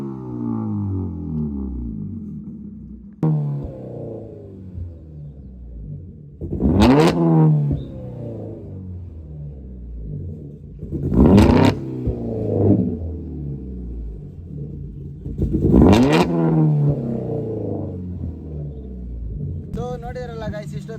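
Modified car fitted with a flame kit and bangers, revving in three sharp surges with crackling pops between them over a low rumbling idle, heard close up with no talking.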